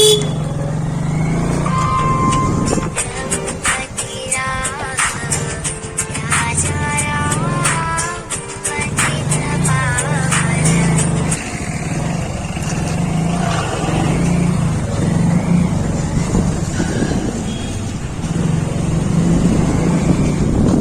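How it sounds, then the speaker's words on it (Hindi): A motorbike rides out through the exit gate of M.K College in Laheriasarai, Darbhanga, its steady engine drone continuing throughout with horn toots and busy road traffic nearby. "तो चलिए बाइक पे चलते हैं।"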